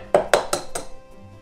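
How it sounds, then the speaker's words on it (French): Eggs cracked into a bowl for oat and buckwheat galettes: four quick clinking taps against the rim in a row, close and fairly loud, then a soft quiet tail. "Donc on va mettre 2 œufs."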